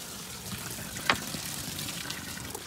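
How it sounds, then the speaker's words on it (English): Water filling a swimming pool, a soft, steady rush and trickle with one brief splashy spike, fairly faint and heard alone. "Now we're filling up the swimming pool."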